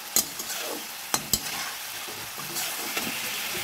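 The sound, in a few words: onion and tomato with spices frying and being stirred in pan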